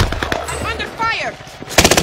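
Gunfire in a battle royale video game erupts as a loud, rapid automatic burst near the end, after a voice and game sounds fill the first part.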